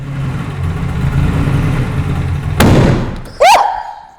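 A BMW E21 323i engine coughs and runs rough on starting fluid, a low uneven idle that builds into a loud sharp burst, then a short squeal-like rising tone as it dies away.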